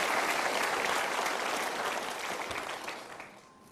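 A crowd applauds steadily and loudly, a dense wash of clapping that starts to thin out and fade near the end.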